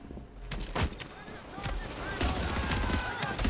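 Scattered video-game gunfire from The Division, a few sharp shots and bursts popping through a busy mix of game sounds and talk, moderately loud and fairly close.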